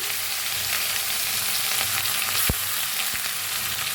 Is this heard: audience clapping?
no